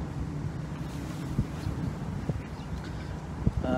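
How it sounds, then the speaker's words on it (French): Steady wind rushing across the microphone outdoors, a low continuous roar with occasional soft gusts and thumps. "Un petit vent, il fait beaucoup moins chaud qu'hier."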